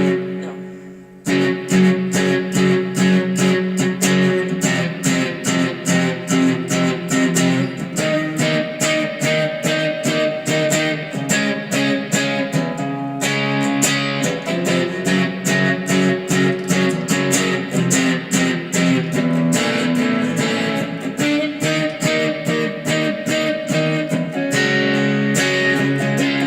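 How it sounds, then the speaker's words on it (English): Electric guitar playing accented, aggressive staccato power chords with a distorted tone, in a guitar sectional lesson setting. Loud, steady rhythmic strums with sharp repeated attacks run continuously for the whole stretch, with no talking over them. "So that same kind of aggressive staccato feel"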